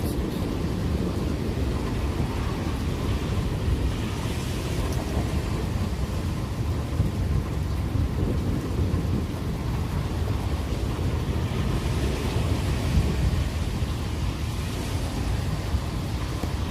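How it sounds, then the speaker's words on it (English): Loud, continuous thunder rumbles through a severe thunderstorm with heavy wind, a dense low roar holding steady for the whole stretch with no pauses. "It's very loud, this thunder."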